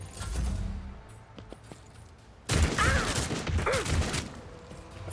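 Rapid gunfire bursts from a Warhammer 40,000 Rogue Trader video game battle, a loud clattering volley starting midway and continuing over a low game ambience, with a brief voice-like sweep in the mix.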